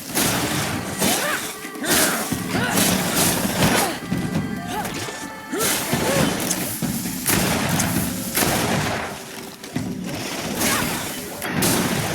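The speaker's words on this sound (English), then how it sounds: "Watch out! Grenade!" Grenade explosion in a GreedFall battle among ancient ruins, bursts of crashing impacts and booms repeating through busy combat noise, loud and close, with occasional shouted voices.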